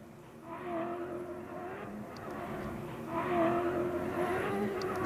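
A Ford Raptor pickup truck revs its engine on a dusty Dakar-style off-road course. The engine drone builds in two surges, getting louder toward the end, and sounds moderately near with no voices.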